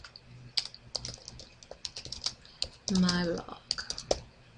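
Clicky keystrokes from someone typing a blog post on a computer keyboard, irregular bursts of taps close by, with a short stretch of speech in the middle.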